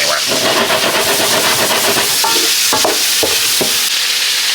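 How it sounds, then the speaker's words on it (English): Oxtails and onions brown in avocado oil with a loud, close, continuous sizzle and hiss, broken by a few sharp scraping stirs toward the end. "So I'm going to get this browned up some more, throw those onions in."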